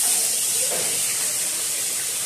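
Parshe fish frying in hot mustard oil in a pan, a steady close sizzling hiss with no talk.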